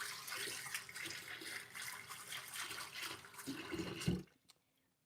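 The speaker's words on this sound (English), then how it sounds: "I'm gonna put this in the sink. Put some water in there." Water runs steadily into a kitchen sink for about four seconds, with a brief louder splash near the end before it cuts off to silence.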